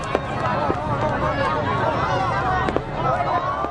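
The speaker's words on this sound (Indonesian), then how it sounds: "Pekikan suara mercon memecah suasana." Firecrackers burst in sharp, scattered cracks during a New Year celebration in Depok, set against a steady roar of a busy outdoor crowd with voices and chatter throughout.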